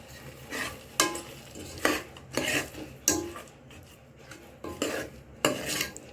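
Cooked toor dal and jaggery being stirred in a pot, a spoon scraping the metal in regular strokes about once a second, close and clear with no talking.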